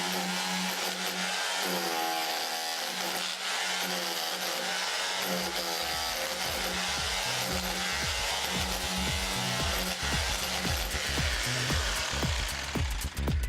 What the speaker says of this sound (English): Let's change gearbox setting over to hammer only mode.